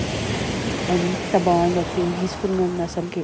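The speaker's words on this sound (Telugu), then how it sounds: "ఈ సౌండ్, అలల సౌండ్," Ocean waves breaking at a beach in Napier, New Zealand, heard as a steady broadband wash throughout, with someone speaking over it.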